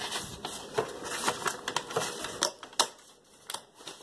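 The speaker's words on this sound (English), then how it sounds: "Take your book and rip out a page." A page torn from a book for a wreath craft, a rapid series of crisp paper rips and crackles, close and fairly loud, lasting about four seconds.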